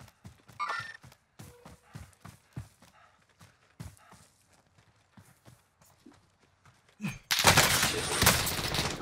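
Call of Duty: Modern Warfare Warzone battle: scattered sharp shots and rapid clicks ring out at irregular intervals, building to a loud, sustained roar of burst fire near the end.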